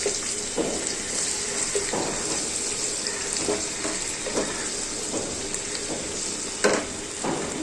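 Onions frying in a pan with ginger and garlic paste give off a steady, fairly soft sizzle, broken by scattered spoon scrapes and stirring knocks, with no talking.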